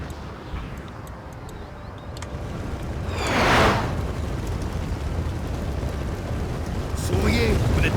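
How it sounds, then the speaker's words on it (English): Massed musket volley fire from several units in Napoleon: Total War, a loud rolling crackle swelling mid-clip with a further burst near the end, over continuous battle ambience and distant rumbling. "Let's have all our units fire into that blob."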